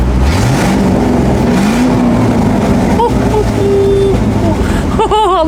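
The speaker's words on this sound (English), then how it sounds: "it's got a blowing exhaust or slight blow on the exhaust" A van's engine drones steadily at motorway speed, with a blowing exhaust adding a rough, breathy rasp to the continuous loud rumble, and a voice speaking over it near the end.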